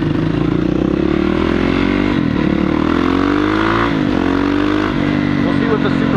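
Yamaha WR450 supermoto motorcycle engine running steadily and loud throughout, with a strong harmonic drone that rises and dips slightly as the revs change; there is no talk over it.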